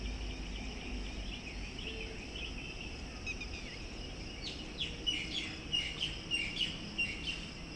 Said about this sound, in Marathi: पक्ष्यांची लगबग सुरू आहे पक्षी कसले ते कबूतरच आहेत जास्त झालेले टिटवी